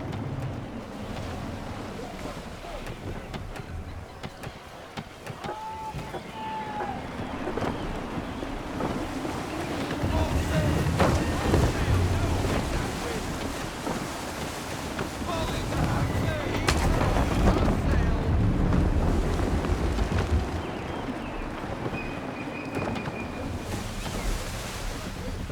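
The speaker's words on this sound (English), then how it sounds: "Stay alert, Connor. Gusty winds can be difficult to manage." Gusty wind whipping around a sailing ship at sea in Assassin's Creed III, a constant roaring rush with rising gusts and surging water beneath, some faint sounds layered through it.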